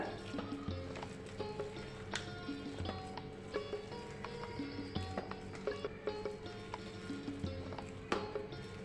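A spoon stirs thick sweet corn paste batter for cheese bhajiya in a bowl, giving soft wet sloshing with repeated light clicks and taps of spoon against the bowl, close and quiet, with no talking.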